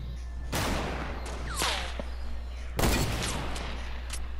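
Fortnite gunfire in two loud broadband bursts, the first at about half a second and the second near three seconds, with faint scattered pops and a low steady hum in between. No one speaks.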